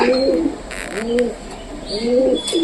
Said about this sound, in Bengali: এই দেখো কবুতরগুলো সব বসে আছে